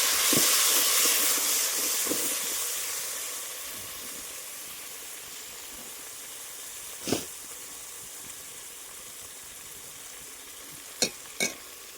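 Onions sizzling in hot oil for olo, a continuous crackling hiss that is strongest at first and gradually settles, broken by a few sharp clicks and clatters of a utensil against the pan.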